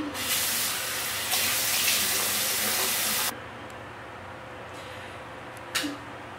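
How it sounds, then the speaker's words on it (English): Tap water runs loudly and steadily into a sink during face washing for about three seconds, then stops, leaving quiet room sound and a brief splash near the end. "I'm gonna wash my face."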